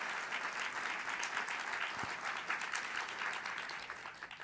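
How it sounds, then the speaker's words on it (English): Faint, steady applause from a gathered audience at the Museum of Science in Boston, a continuous wash of many hands clapping at a distance, with one brief low thump partway through. "let's give them a round of applause"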